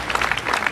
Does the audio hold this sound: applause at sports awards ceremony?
yes